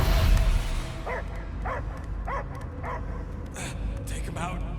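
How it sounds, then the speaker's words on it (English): A dog barks repeatedly in the Guardians of the Galaxy video game, a series of evenly spaced yelping barks over a constant low rumbling background, with voices nearby. "I hear only barking"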